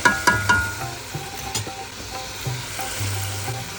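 Boiled jackfruit goes into a hot pan and is stirred, producing a close sizzle with a cluster of spoon clanks at the start and scattered scraping knocks after.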